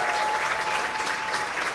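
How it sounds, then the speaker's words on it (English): An audience at a Busboys and Poets book presentation claps steadily in a dense, even wash of applause that holds at constant loudness throughout. "You guys give him a round of applause"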